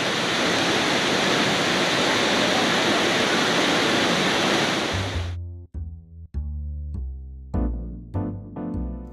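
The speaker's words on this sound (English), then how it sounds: "waterfall over here." The waterfall at Ash Cave in Hocking Hills State Park gives off a loud, continuous rushing roar for about five seconds, then cuts off abruptly. Sparse tonal musical notes follow.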